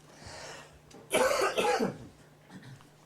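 A couple of rough coughs from a tickle in the throat, close to the mic, loud and raspy, followed by a faint throat sound.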